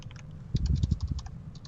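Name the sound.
typing on a computer keyboard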